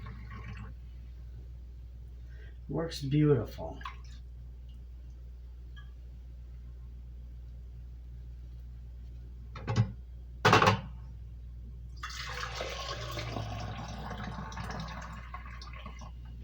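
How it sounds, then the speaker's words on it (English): Homemade beef bone broth poured from a 2-cup measuring cup into canning jars, a quiet liquid splash and trickle near the end after a few brief clinks and knocks, with a short spoken remark. "I like to just take my 2-cup measuring cup and just pour it on in."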